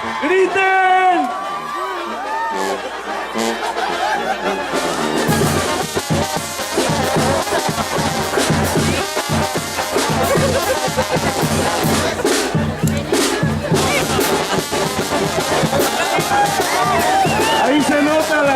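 A large crowd of Arantepacua villagers, women among them, shouts, whoops and cheers loudly and continuously during a celebration announcing their town as the new host of the Purépecha New Year, with a voice calling out over the din.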